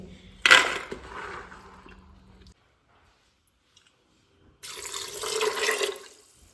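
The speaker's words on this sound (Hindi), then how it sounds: "थोड़ा सा ही पानी जो है ना मैंने इसमें डाल दिया है।" Water poured into a pressure cooker holding soaked chickpeas, in two short, close pours with a pause of silence between them.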